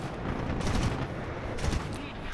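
20 mm aircraft cannons fire in War Thunder as rumbling, continuous bursts, loud and muffled, with two stronger pulses of fire standing out.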